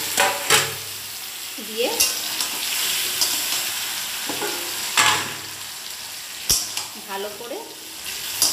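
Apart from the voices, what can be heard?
marinated chicken and fried potatoes sizzling, stirred in a pan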